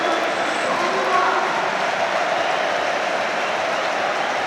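A stadium crowd at the Amex roars in a broad, sustained cheer after the man of the match announcement, loud and continuous throughout.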